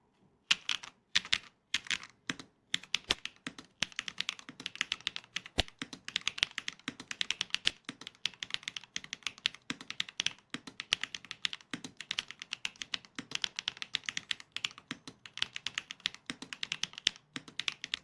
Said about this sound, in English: Let's listen to the typing sound of the faceless kit together.